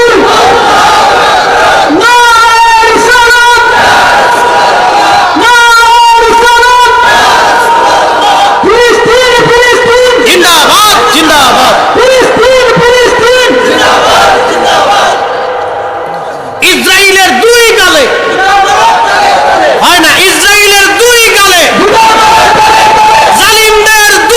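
A large crowd roars a takbir chant in unison at a Bangladeshi Islamic sermon gathering, several loud surging shouts repeated in waves with a voice leading between them.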